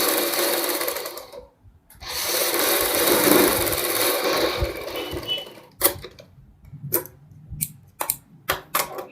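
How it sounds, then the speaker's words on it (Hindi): A sewing machine stitches fabric along marked lines on an off-shoulder suit top: a long, loud continuous run of stitching, a brief pause, another sustained run, then a string of short stop-start bursts. "दोनों साइड निशान के ऊपर सिलाई लगाएंगे।"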